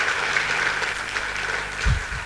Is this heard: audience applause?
yes